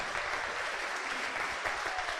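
Congregation at a Spanish and Q'anjob'al church service bursts into loud, steady applause, dense clapping sustained throughout with no pause.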